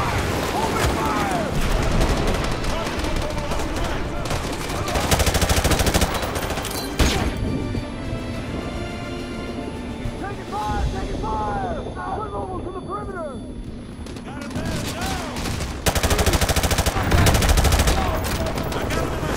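Repeated bursts of gunfire in the video game Call of Duty: Modern Warfare 2 Remastered, rapid and loud, mixed with explosions and distant aircraft rumble, with voices shouting over the battle sounds.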